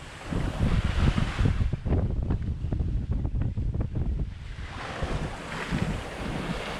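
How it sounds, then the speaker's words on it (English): Strong wind roaring across the microphone while sailing a boat between Caribbean islands, with waves washing against the hull, a continuous loud rush that eases briefly midway, no talking. "We're sailing now. Got us some good wind."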